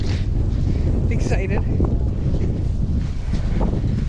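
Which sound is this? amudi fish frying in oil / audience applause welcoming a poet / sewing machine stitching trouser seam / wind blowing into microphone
wind blowing into microphone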